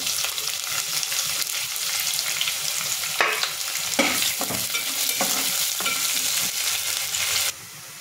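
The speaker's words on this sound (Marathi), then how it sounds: "त्याच्यामध्ये मी कांदा टाकून परतून घेते" Onion sautéing in a pan with curry leaves, a loud, steady frying sizzle with repeated spatula scrapes close up, ending abruptly as the sound drops near the end.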